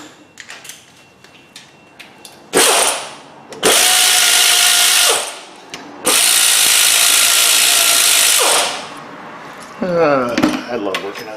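An electric impact tool loosens the 12-point 13mm wheel bearing bolts on a Jeep WJ in two loud, sustained whirring bursts, each a couple of seconds long, with clanking of tools and handling noise before, between and after them.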